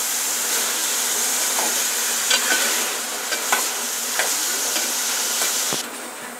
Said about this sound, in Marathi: हळद टाकल्यानंतर असं चांगल्या पद्धतीने ढवळून घ्यायचं आहे।